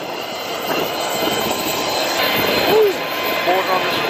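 An Allegiant Airlines passenger jet's engines roar steadily at an airport, a broad, continuous drone that swells slightly toward the end, with some voices mixed in.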